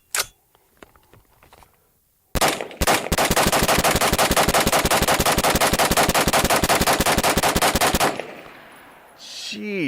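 Rapid continuous semi-automatic fire from an EMR-1 rifle with a Cox Arms battle brake, loading green tip rounds from KCI magazines: a long, evenly spaced string of loud, sharp shots after a couple of single reports, then sudden quiet.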